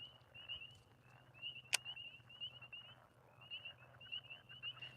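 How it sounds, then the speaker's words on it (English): Frogs croaking near a backwoods fishing spot, a steady chorus of repeated rasping calls carrying on in the background, with one sharp snap partway through and no talking. "Can y'all hear them frogs?"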